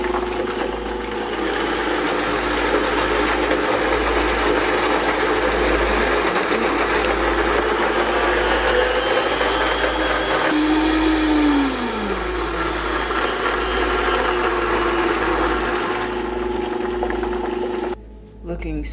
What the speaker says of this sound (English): You can blend this out until it's fully smooth, either in a blender or a food processor.